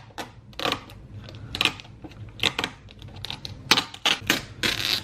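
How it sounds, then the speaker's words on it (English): Vinyl wrap peeled off a car mirror, pulling up some paint: a series of sharp tearing crackles and ripping bursts in quick, irregular succession, close and fairly loud. "we're gonna go ahead and just jump into peeling this wrap off"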